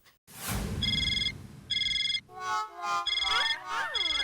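A phone ringtone plays in repeated electronic bursts, loud and close, followed by a melodic ringtone pattern with sweeping tones.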